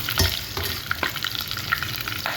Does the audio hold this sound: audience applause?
no